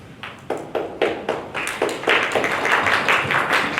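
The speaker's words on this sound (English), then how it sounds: "I haven't even done anything yet. Applause already." An audience at a nonprofit event begins clapping with a few distinct separate claps, then quickly swells into full, loud, sustained applause from many hands.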